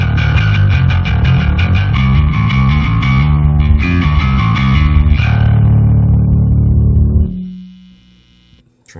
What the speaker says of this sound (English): that executes a rat distortion here into the chain.